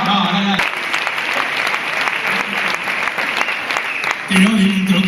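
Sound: audience applause at sports gala

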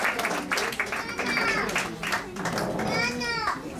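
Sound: audience applause at award ceremony

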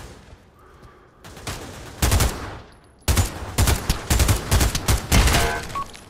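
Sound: gunfire in the VR game Pavlov

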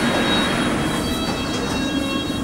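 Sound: London Underground train arriving at Wimbledon

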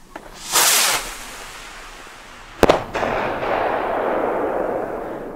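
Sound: Headbanger firework rocket exploding

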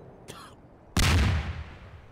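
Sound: incendiary grenade going off in Garry's Mod video game

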